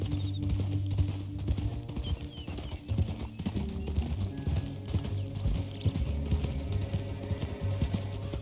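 Horse hooves clip-clop steadily in Red Dead Redemption 2, a rhythmic trot of close, moderately loud footfalls under game music and ambient rumble, with no voices.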